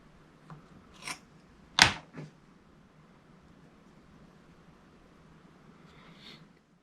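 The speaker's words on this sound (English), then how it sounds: "So here I've cut my pinch pot in half" A few short, sharp scraping cuts through a leather-hard clay pinch pot, one louder slice in the middle and fainter ones around it, close and otherwise quiet.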